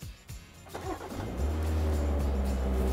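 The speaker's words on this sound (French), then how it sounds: "La preuve, on démarre le moteur" A 2017 BMW 540i engine fires up about halfway through, moving from near quiet to a steady, close idle hum that holds to the end.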